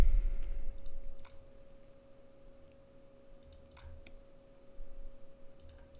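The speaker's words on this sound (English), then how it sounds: "Just follow the clicking that I'm doing." Sparse mouse clicks on a computer, a handful of sharp, isolated ticks spaced irregularly over a quiet room hum.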